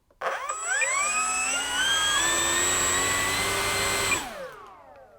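A small H-King P-51 Mustang RC model plane's electric motor holds near half throttle, a steady whining drone with tonal harmonics that starts abruptly, sustains for about four seconds and then winds down.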